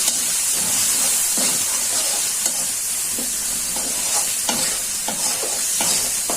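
Steady sizzling of spices with ginger frying in a hot pan for a pangas fish curry, with soft rhythmic scrapes of stirring throughout; no voices.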